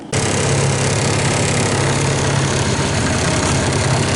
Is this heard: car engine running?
yes